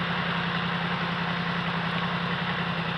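Yamaha MT-10 motorcycle, a naked bike with an R1-derived engine, idling steadily close by: a constant low, throbbing engine hum with an even pulse that holds unchanged throughout, with no other sounds.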